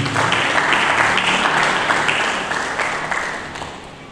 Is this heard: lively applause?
yes